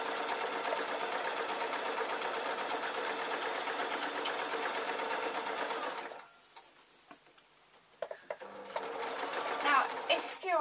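A sewing machine stitches waistcoat fabric in a long, steady, close run of rapid needle strokes, then stops; scattered handling clicks and a brief restart follow.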